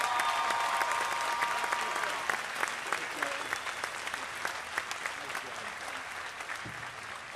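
Sustained applause from a large audience at a university undergraduate commencement, dense, steady clapping that eases slightly after a couple of seconds and carries on with a few murmuring voices mixed in.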